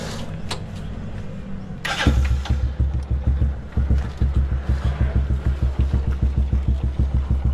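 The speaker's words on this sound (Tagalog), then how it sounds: "Painitin na lang natin yung makina niya" A motorcycle engine is started with a burst of noise about two seconds in, then idles with a steady, close, regular putter that keeps going to the end.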